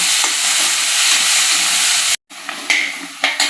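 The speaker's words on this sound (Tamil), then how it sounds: "தக்காளி நல்லா வதங்கணும்." Chopped tomato and onion sautéing in a pan for Tamil egg curry, a loud steady sizzle with stirring, briefly cut to silence, then resuming in uneven bursts of frying hiss.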